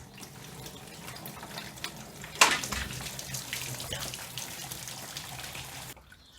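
Hot coolant drains from the radiator system of a Mini John Cooper Works during a radiator flush, a steady splashing trickle with a sharp knock partway through, before the flow suddenly stops.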